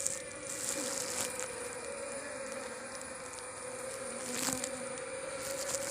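Bees buzz inside a wooden hive box for cavity-nesting bees, a steady close drone with a clear tonal hum and occasional louder swells as individual insects pass near.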